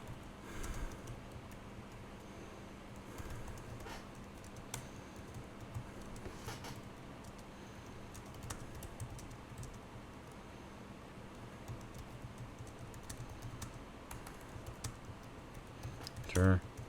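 Keys clack on a computer keyboard in quick, irregular runs, quiet and close against a faint steady hum, with a soft voice passing in places.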